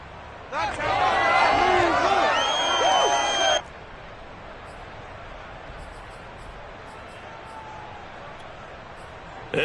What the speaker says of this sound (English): as this crowd rises to make things difficult